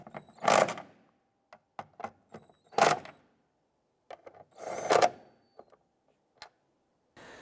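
Ratchet snugging down the three taillight nuts on a 2001-2005 Honda Civic, heard as several short bursts of ratcheting clicks separated by pauses, close up with no talking.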